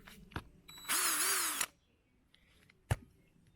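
A cordless drill spins up once after a fresh battery is fitted, a short, close, high whine lasting under a second, framed by a few quiet clicks and handling knocks.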